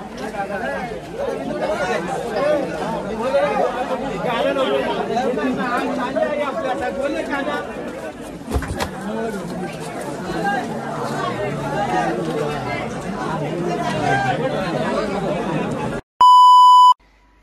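A dense crowd chatters continuously at the Ekvira Aai palkhi procession, loud and close, an unbroken babble of many voices that ends with a short electronic beep.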